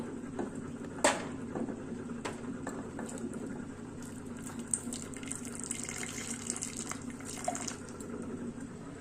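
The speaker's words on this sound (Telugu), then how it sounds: "ఈ నీళ్ళు ఉన్నాయి కదండి జార్లో వేసుకుంటాను" Cooking water poured into a blender jar while making stuffed ivy gourd (dondakaya) curry, a continuous close splashing trickle with a brief louder gush near the start, heard alone without speech.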